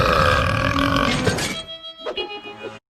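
A cartoon character lets out a long, loud, rasping burp that fades into a few throaty gurgles before cutting off, close and unaccompanied by talk.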